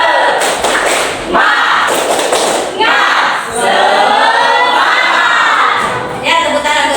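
A class of children does a rhythmic spirit clap, with loud thumping claps in bursts, punctuated by energetic group shouting and cheering, all close and loud.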